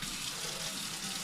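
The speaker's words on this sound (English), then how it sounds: "We'll actually wash the knife." A kitchen knife is rinsed under a running tap during a cooking session, a steady close-up hiss and splash of water streaming into a sink with no pauses.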